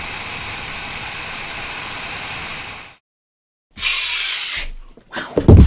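An AMD Radeon RX Vega 64 graphics card, overclocked, with its fan spinning at 4,000 RPM gives a loud steady broadband whoosh that cuts off abruptly, returns briefly and then gives way to louder noises.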